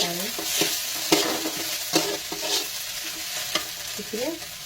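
Onions and spices sizzling in a pan for an Odia aloo dum, with a steady frying hiss broken by regular close spatula scrapes and clicks against the pan.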